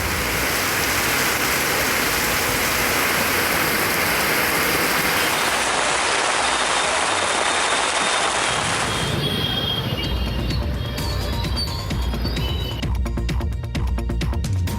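Steady rain pours in Krishnagiri district around Hosur, a loud continuous wash of falling water that shifts in texture partway through, with no voices.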